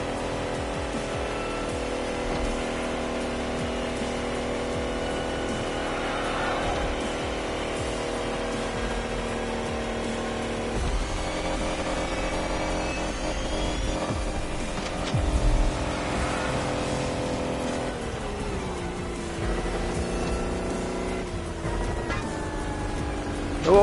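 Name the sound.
electric car accelerating in a video game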